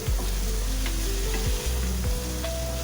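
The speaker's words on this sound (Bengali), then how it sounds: "দেখুন আমি কি সুন্দর ভাজছি, লাল লাল করে ভাজছি।" Steady, loud sizzling of eggs frying in a pan until reddish, with a few stirring scrapes and clinks over the constant hiss.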